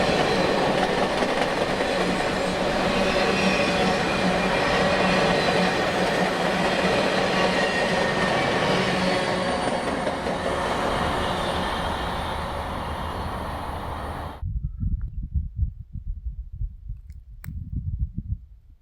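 Union Pacific Big Boy 4014 steam locomotive excursion train rumbles past close by in the Nevada desert with a loud, steady roar and rhythmic clatter, then abruptly drops to faint wheel clacks.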